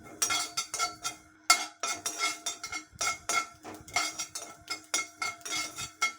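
Mustard seeds and cumin dry-roasting in a metal pan, stirred with a utensil that clinks and scrapes in quick, uneven bursts, close and fairly quiet, with no talking.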